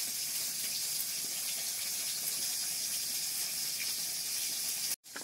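Fish pieces fry in oil with a steady, dense sizzling hiss that runs unbroken for about five seconds before cutting off abruptly.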